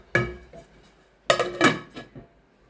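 A lid is set onto a cooking pot of fish curry, with two metallic clattering contacts, a quick clink followed a second later by a longer rattling settle, close and fairly quiet.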